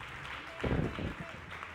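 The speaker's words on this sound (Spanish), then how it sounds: "dale fuerte esas palmas al Señor." A standing church congregation clapping for the Lord during a Spanish-language service, a short burst of rhythmic palms swelling briefly under a preacher's ongoing voice.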